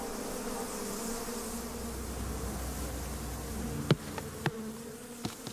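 A steady insect buzz of honey bees hums throughout, a close, continuous drone with a few sharp clicks or taps near the end.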